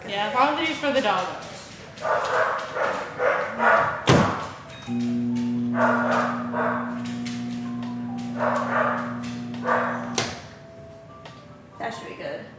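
A dog barks in a few short, scattered bursts around a live baking stream, mixed with thuds and a steady hum while people talk over it.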